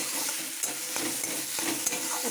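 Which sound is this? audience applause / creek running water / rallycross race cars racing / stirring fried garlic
stirring fried garlic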